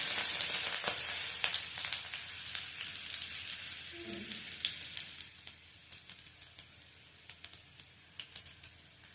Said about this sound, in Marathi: तेल व्यवस्थित तापलेलं आहे, त्यामध्ये 2 मिरच्यांचे तुकडे करून मी घातले